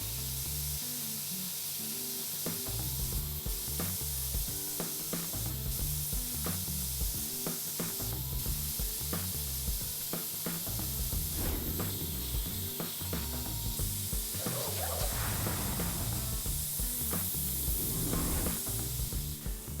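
Sparmax MAX-4 airbrush at 1.5 bar sprays paint in short hissing bursts, with repeated clicking trigger and mechanism sounds in an uneven rhythm, close and fairly quiet.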